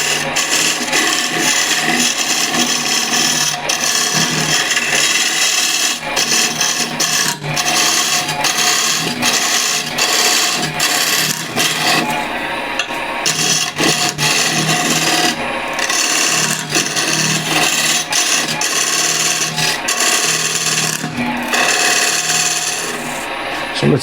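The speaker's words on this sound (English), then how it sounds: "I'll do that with the square and scraper" A square scraper works the rim of a wooden apple spinning on a lathe, giving a continuous raspy scraping. Rapid rhythmic ticks run through it, and there are brief dips as the tool shifts, all close and loud.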